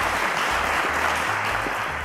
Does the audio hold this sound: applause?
yes